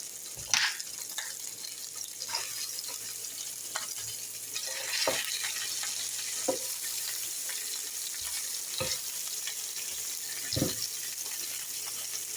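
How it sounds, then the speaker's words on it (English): Chicken pieces browning in a pan, a quiet continuous sizzle with scattered clicks and taps of a utensil stirring and turning the meat. "I'm not cooking these thoroughly. I'm just browning them to add some more flavor."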